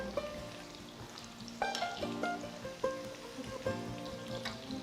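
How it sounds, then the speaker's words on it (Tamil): Chicken pieces frying in a pan over a medium flame crackle and spatter like light rain. Several louder bursts of sizzle and pops come every second or so, close and clear. "ஸோ நான் இப்போ மீடியம் ஃப்ளேம்லேயே வச்சு நான் இதை ஃப்ரை பண்ணுறேன்"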